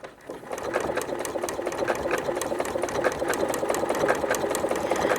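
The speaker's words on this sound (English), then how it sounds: "I'm going to drop the needle right outside, and it's just going to take 3 little stitches and a tiny little bite out of my binding." A sewing machine stitches appliqué onto quilt binding in a fast, even rhythm of rapid mechanical needle strikes, loud and close, running steadily for several seconds with no talking.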